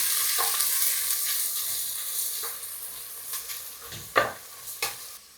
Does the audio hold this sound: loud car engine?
no